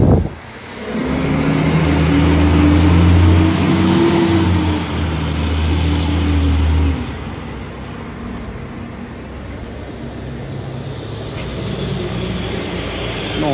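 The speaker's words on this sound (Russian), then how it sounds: "смотрите, автобус, гармошка" An articulated city bus passes through downtown Phoenix, Arizona, its loud engine drone rising and holding for several seconds with a high brake or whine tone, then fading into steady street traffic noise.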